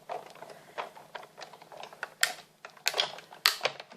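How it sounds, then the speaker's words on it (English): A die cutting machine is cranked with a top plate, giving a steady run of small crackles and clicks as the blades press into card, with a few louder snaps toward the end and no speech. "that cracking noise is normal, it's the blades going in"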